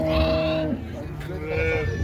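A lamb bleats loudly and nearby at a sheep and pig livestock fair in Capoeiras, with a long wavering cry, then fainter bleats amid crowd noise and talking.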